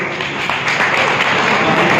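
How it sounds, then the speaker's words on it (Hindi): Audience at a motivational business talk breaking into sustained applause, a dense wash of clapping that builds and holds without talk. "एक बार इनके लिए तालियां"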